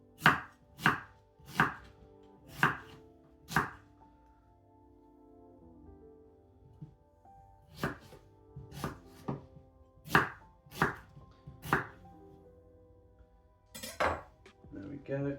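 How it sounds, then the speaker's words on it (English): A knife chops onions into medium pieces on a board in bursts of sharp, close thuds, five quick strokes, a pause, then another run of chops, with faint background room sound and no talk. "just chop the onions in medium-sized pieces"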